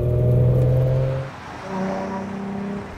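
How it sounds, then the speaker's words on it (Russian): Ford Mustang V engine droning heavily inside the cabin, a loud low hum that eases after a second and then returns as a steady booming tone, with no talk. "даже сейчас вся грозность двигателя очень гулко отдается в салоне"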